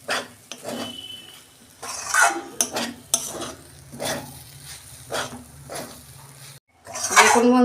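Semolina upma stirred in a pan, close scraping and clinking strokes of a spoon against metal in irregular bursts, with a faint sizzle beneath and a short pause near the end.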